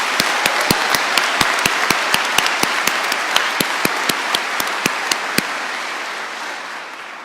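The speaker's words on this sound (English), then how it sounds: "Can we give them all another round of applause?" Audience applause at a WGU Tennessee commencement ceremony for graduates, a steady roomful of clapping with sharp individual claps standing out, sustained for several seconds before gradually tapering off.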